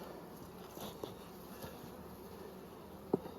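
Bees buzz around an open hive during spring management in Nymboida, a faint, steady droning hum with a few soft knocks, low in level and without voices.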